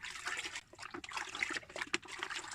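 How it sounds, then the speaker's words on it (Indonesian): Water is stirred by hand in a container where bare-root grape seedlings soak, a close, continuous sloshing and trickling with small splashes, no voices present. "Kita harus rendam dulu, kita aduk-aduk."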